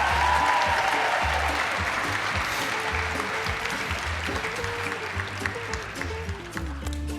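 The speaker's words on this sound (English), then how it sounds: "Can we give him another round of applause?" A crowd at a university apparel design fashion show applauds steadily, dense clapping that gradually thins over a low music track.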